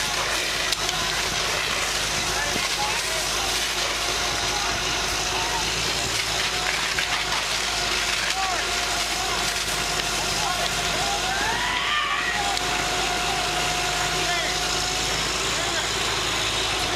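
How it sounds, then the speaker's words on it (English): A fire truck deck gun, or master stream, throws water in a steady loud broadband rush that holds for the whole stretch, with an engine drone beneath and a few faint voices in the background. "use a master stream or a deck gun as it's commonly called"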